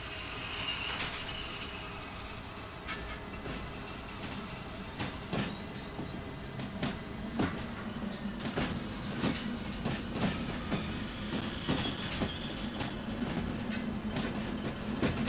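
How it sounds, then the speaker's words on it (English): Freight train of about 2000 tons hauled through Derail Valley, with steady rolling rumble and repeated clickety-clack wheel beats over rail joints, heard close and continuous throughout. "Gonna be one of the longest trains I've hauled for quite a while."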